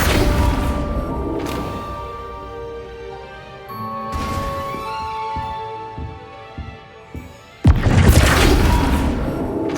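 Flipendo spell casts in Hogwarts Legacy, heavy booming thumps with whooshing bursts, three strong impacts spaced a few seconds apart over low game music.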